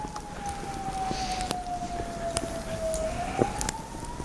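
A single distant siren wails steadily, its pitch sliding slowly downward then rising again, over a constant background hum of wind or traffic.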